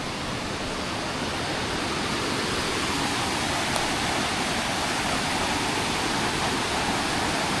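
A constant rushing roar of Huay Kaew Waterfall near Chiang Mai, Thailand fills the scene, broad and unchanging, with no voices over it.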